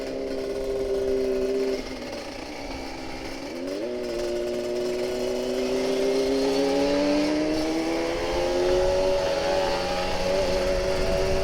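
A loud Kawasaki Ninja RR 150 motorcycle engine drones and revs steadily, its pitch dipping and climbing in long sweeps, with rough exhaust noise throughout.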